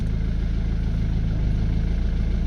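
A Ford Mondeo ST diesel engine idles with a low, steady rhythmic chug, close and loud, with no other sounds and no talk.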